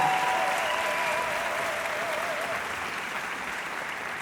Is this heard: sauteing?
no